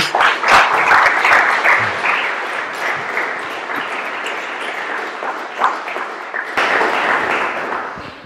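A studio audience breaks into sustained applause for a guest at a French talk event, dense clapping throughout with a brief dip before a fresh swell near the end.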